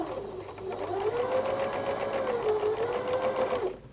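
A sewing machine runs steadily while stitching the facing seam of a dress, a continuous close motor whir with a quick regular needle rattle from start to finish, with no pauses.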